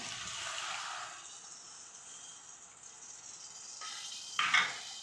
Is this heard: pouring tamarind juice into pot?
yes